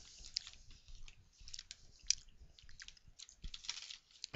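Close, quiet chewing of Oberto spicy sweet beef jerky, with wet, squishy bites and small crunches in an uneven rhythm, alone without talk.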